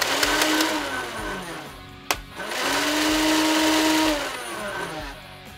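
An X-Shot motorized Rage Fire minigun revs with a whining motor as its barrel spins, the pitch climbing and holding, stopping briefly with a sharp click, then spinning up again loud and close.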